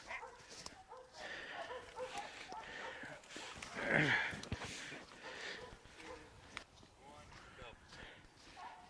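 Year-old hunting dog tied to a tree during a rainy hog hunt, barking excitedly with a few bursts, one louder bark near the middle, mixed with rustling and someone talking.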